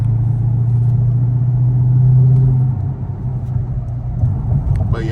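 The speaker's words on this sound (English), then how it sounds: "But yeah, man, there's a lot of traffic" Interior of a moving SRT-swapped Chrysler 300 in heavy road traffic, with a steady, loud low engine drone that eases slightly partway through and ends with a short higher-pitched squeak.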